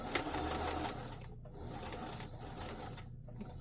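A home sewing machine stitches along the front of a New Look 6603 dress to reinforce it, giving a steady, close mechanical whir that briefly eases off and resumes.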